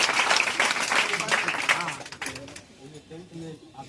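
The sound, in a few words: students applauding loudly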